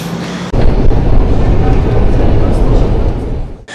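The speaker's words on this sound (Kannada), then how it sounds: "ಮೆಟ್ರೋದಲ್ಲಿ ಹೋಗ್ತಿದ್ದೇವೆ ಇವಾಗ" A metro train riding through the Russian underground, a loud, steady rumble that swells in abruptly and holds, then cuts off near the end.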